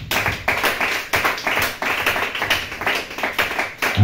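A church congregation applauds in quick, steady rhythmic claps that fill the room evenly and loudly throughout.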